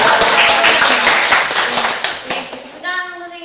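Parents at a high school seminar break into a burst of lively clapping that tapers off, and then a voice starts talking over the last few claps.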